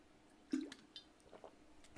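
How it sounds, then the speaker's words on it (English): A person taking a drink of water at home, a soft gulp and wet swallowing squish, quiet and close, heard alone. "taking a drink of water"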